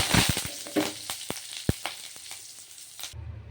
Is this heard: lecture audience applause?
no